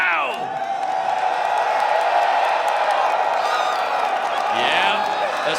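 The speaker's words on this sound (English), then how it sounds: "If you like Hikari, let them know right now" Cheering crowd at an esports fighting game grand final, loud sustained roars and whoops filling the arena while an announcer talks over the noise.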